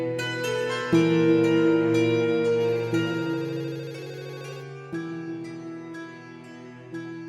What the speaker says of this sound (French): Le téléphone sonne depuis si longtemps.